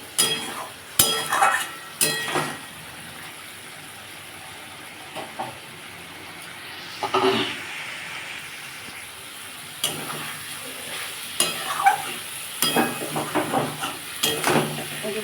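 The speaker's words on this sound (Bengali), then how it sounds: "যতক্ষণ না কষা হবে ততক্ষণ এটাকে এরকমভাবে নাড়তে হবে" Potatoes frying in a pan are stirred with a spoon, producing a hissing sizzle broken by irregular scrapes and clinks against the metal, close by.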